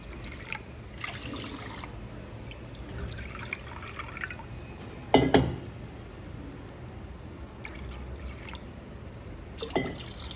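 Milk is poured into a pan while making sooji sheera, semolina pudding, giving a faint, low trickling and dripping with a brief louder splash midway and no talking.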